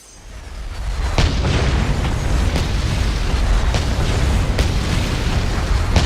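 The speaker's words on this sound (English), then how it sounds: "This is a fire spell in Dragon's Dogma." A fire spell cast in the video game Dragon's Dogma, a deep roaring boom that swells in and then holds as a sustained rumbling blaze punctuated by sharp crackles, loud and close.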